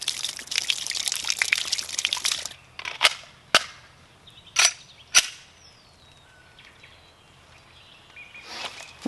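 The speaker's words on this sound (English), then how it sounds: "Now, let's try some one-handed shooting." Pistol shots fired one-handed at a range ring out as a few sharp, separate cracks spaced about a second apart after a stretch of rustling noise, with quiet gaps between them.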